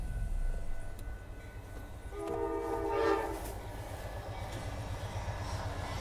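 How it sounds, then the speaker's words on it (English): Southbound Amtrak Texas Eagle 21 passenger train passing at night in Austin, Texas, a steady rumble of rail cars with a loud horn blast sounding near the middle, no talking. "Here comes Amtrak."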